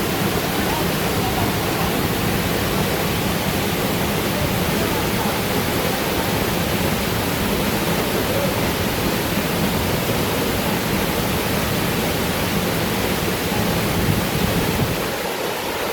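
Luaha Ndroi waterfall in Fulolo village, Alasa district, North Nias, pours with a steady, loud, broadband roar of falling water that stays constant and close throughout.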